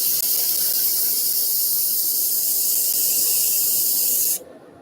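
Steady broadband hissing rasp of sandpaper against a spinning woodturned bunny base on a lathe, loud and continuous with a dust extractor running, cutting off abruptly near the end.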